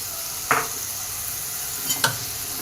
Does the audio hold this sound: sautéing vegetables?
yes